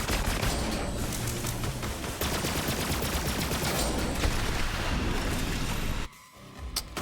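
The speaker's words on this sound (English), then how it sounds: "I'm shooting a fire cutsman" Dense, sustained automatic fire from a fire-element Cutsman weapon in Borderlands 3, a loud unbroken rattle of rapid shots with booming impacts that cuts off abruptly near the end, leaving quieter game noise.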